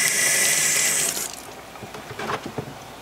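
Water runs steadily from a sink faucet onto a belt, a loud continuous gush that stops about a third of the way in, followed by a few light splashes and handling sounds.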